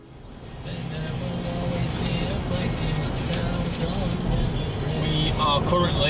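Car driving along the M1 motorway toward Leeds, a steady broadband road and engine rumble with tyre noise filling the cabin, rising slightly at the start and holding constant, with voices faintly present.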